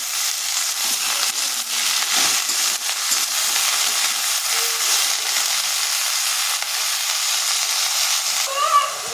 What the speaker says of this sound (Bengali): এখন এর মধ্যে বা পেঁয়াজ শাকটা দিয়ে দেবো শাকটা সবজিগুলোর মধ্যে ভালো করে নাড়াচাড়া করে নেব